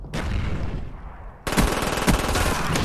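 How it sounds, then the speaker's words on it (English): Rapid bursts of gunfire from a silenced weapon in a first-person shooter free-for-all match, with loud dense shots continuing after a brief quieter stretch. "there's a guy I hear shooting a silenced gun"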